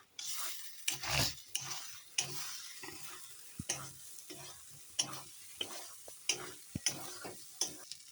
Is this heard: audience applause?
no